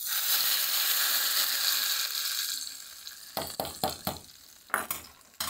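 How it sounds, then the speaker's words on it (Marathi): A hot curry-leaf tempering hisses loudly into chutney, the sizzle fading over a few seconds before a series of close, sharp scraping knocks as the mixture is stirred in a pan. "आता आपण तडका द्यायचा आहे"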